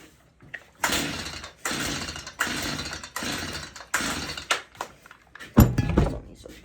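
A previously hydrolocked chainsaw being pull-started with the throttle open gives a rhythmic series of loud, roughly even bursts as the cord is yanked, followed by a brief, harsher sputter near the end.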